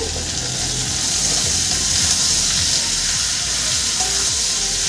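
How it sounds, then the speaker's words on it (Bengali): Figs and potatoes sauté in a pan with a dense, continuous sizzle and soft stirring scrapes, close and steady throughout, with no talking. "ডুমুর আর আলু দিয়ে আমি সুন্দর করে আরও একটু কষিয়ে নেব।"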